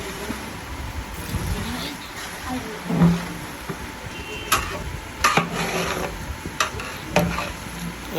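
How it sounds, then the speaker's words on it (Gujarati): Potatoes being tipped into a pan and stirred, with scraping, clattering strokes and a faint sizzle, several sharp knocks of the utensil against the pan, and a few voices in the background. "હવે આપણે બટેટા નાખવા વળગી જઈએ એમાં"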